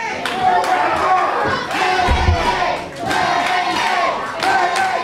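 A wrestling crowd at the Paramus Elks Lodge roars and shouts in repeated loud bursts during a bear hug, with clapping, thuds from the ring and an announcer's voice mixed into the noise.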